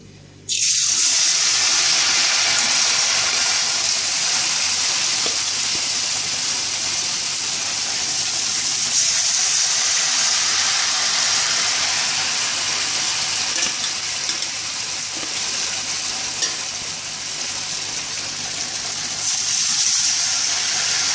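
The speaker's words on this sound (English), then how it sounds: "I'm going to add this banana sliced which is dipped in the batter to the oil" Batter-dipped banana slices dropped into hot oil set off a loud, steady hiss and sizzle that stays close and constant throughout, with no talking.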